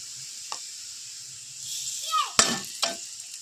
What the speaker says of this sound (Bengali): পেঁয়াজ ভাজতে ভাজতে লাল হয়ে গেছে, এর মধ্যে মুগ ডাল দেওয়া যাক